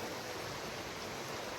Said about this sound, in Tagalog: Ilog Tabang.